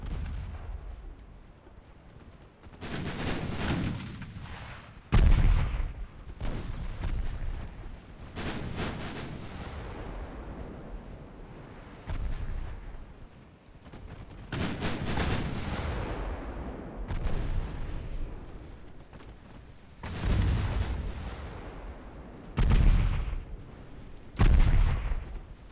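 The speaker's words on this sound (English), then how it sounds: "5-inch guns are now penning." Naval 5-inch guns firing in Ultimate Admiral Dreadnoughts, with repeated booming artillery blasts at irregular intervals over a rumbling battle background, some shots loud and near, others duller.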